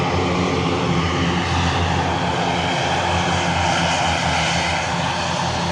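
A propeller airliner taking off from Lanzarote airport toward Gran Canaria roars loud and steady, a continuous broad drone filling the whole stretch with no talk over it.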